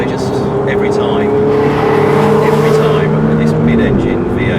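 A 2015 Ferrari 488 GTB supercar with a mid-engine V8 runs loud and close, its engine holding a sustained droning tone that shifts slightly in pitch across the whole stretch.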